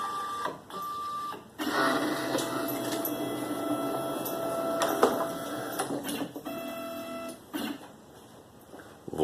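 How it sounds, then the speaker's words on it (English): An upgraded E4 machine homes its axes, producing whirring stepper-motor runs and pitched motor tones in several stop-start bursts with clicks between, near and moderately loud. "And let's home the machine."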